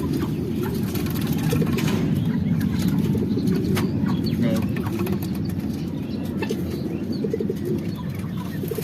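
A newly brought female pigeon coos at home, a low rolling murmur that carries on throughout at close range, with bird chatter above it and a faint engine hum in the background.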